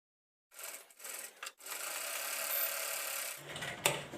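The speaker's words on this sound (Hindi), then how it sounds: "यहाँ से सिलाई लगाएंगे हम।" A sewing machine stitches a blouse lining in short bursts, then runs in one longer steady whirring stretch, quiet and close by.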